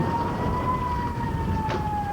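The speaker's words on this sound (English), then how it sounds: "the air raid siren sounds again" An air raid siren holds a steady, fairly faint tone over a village under Hezbollah rocket fire during daylight fighting, with muffled background noise beneath it.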